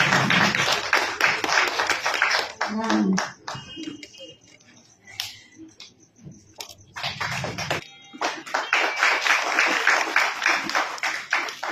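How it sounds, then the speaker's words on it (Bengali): A theatre festival audience claps in dense bursts of applause, fading to scattered claps in a thinner middle stretch before swelling loud again; voices are faintly mixed in. "একটু জোরে হাততালি হয়ে যাক"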